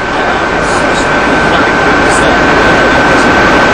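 Aircraft engine drone in the cabin during flight aboard an older ex-Soviet airliner, a steady, loud broadband roar with a constant high whine, running unbroken throughout.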